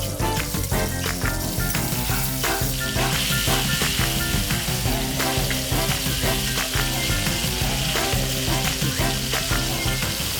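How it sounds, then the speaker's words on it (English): Chicken and garlic stir-fry in hot oil in a wok, a loud, dense, continuous sizzle and crackle that holds steady throughout with no pauses. "Now just stir fry that until the chicken is just cooked."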